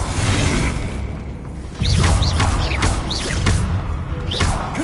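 Expelliarmus disarming spell effects in the Hogwarts Legacy video game: a burst of whooshing magic and crackling, sparkling impacts with rapid chirping zaps, loud and busy over continuous game combat noise.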